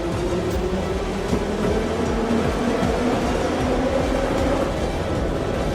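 Train moving on rails, heard from inside as a loud continuous rumble with faint rhythmic clatter throughout, with no voices.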